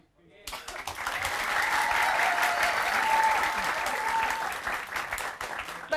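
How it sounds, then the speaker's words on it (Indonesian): A live audience claps loudly to vote for a contestant, the applause swelling quickly into a dense, sustained roar with a few voices cheering through it, close and full before tapering off at the end. "Yang tepuk tangan yang paling keras dari penonton dia yang menang"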